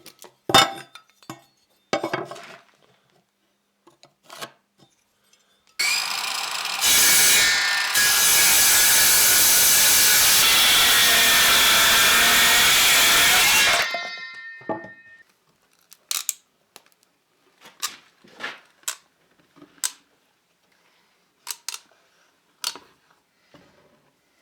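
A handsaw cuts through wooden boards in one long, loud continuous stretch of about eight seconds, framed by scattered knocks and clinks of handling the lumber for an anvil stand, with no talking.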